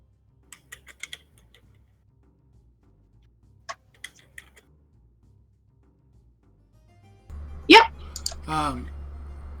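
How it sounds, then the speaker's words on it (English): Sparse clicks of typing on a computer keyboard, a few isolated keystrokes and small bursts spread out quietly, followed by a louder background rumble and a brief vocal sound near the end. "I'm typing up my list right now"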